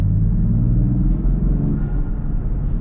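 A 2025 Land Rover Defender or Lexus GX550 SUV accelerates, heard from inside as a low, steady engine and road rumble that stays heavy and close throughout, with no talk.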